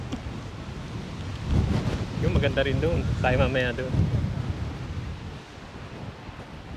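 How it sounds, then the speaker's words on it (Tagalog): Strong wind buffets the microphone outdoors at a tulip festival, a steady loud rush under the whole scene while a person talks over it. "Ang lakas talaga ng hangin."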